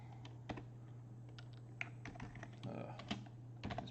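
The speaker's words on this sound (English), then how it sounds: "just type the word in, like" Keys tapped on a computer keyboard to enter a search word, scattered quick clicks at close range over a steady low hum, with no one talking.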